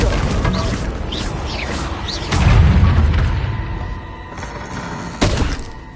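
Bombarda spell explosions in the Hogwarts Legacy video game: loud booming blasts with deep thuds, a big low burst in the middle trailing off, and a sharp crack near the end amid whooshing effects.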